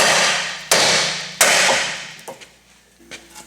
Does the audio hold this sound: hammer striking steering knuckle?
yes